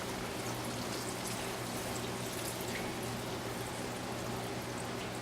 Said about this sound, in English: so we're going to go ahead and pour in water